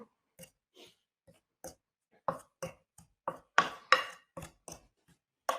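Soft, irregular crunchy squishing as artificial snow is mixed with colours in a salad bowl, a dozen short close scrunches growing louder toward the end.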